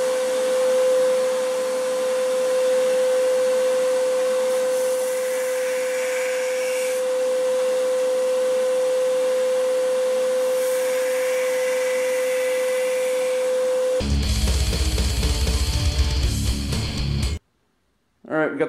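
Grinder grinding knife blades for a friction folder knife, a steady high whine from the machine, then a louder, rougher grinding burst near the end before a brief cutoff.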